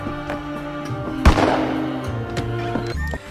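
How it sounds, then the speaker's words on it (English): A single sharp gunshot in the 12 Minutes time-loop video game cracks out near the middle, a loud burst with a brief decaying tail over sustained musical tones, no speech. "in every loop, you can hear a gunshot at exactly 3:45"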